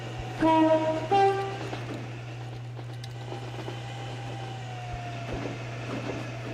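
A train in the game Transport Fever 2 sounds two short horn blasts, then rolls past with a low, steady rumble and a faint falling tone, moderately loud and alone against a constant electrical hum.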